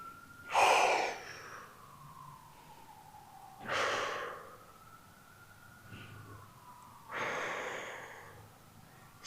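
Short, heavy breaths during a beginner back exercise, three distinct breathy gasps spaced a few seconds apart, close and fairly loud, with a faint steady tone underneath.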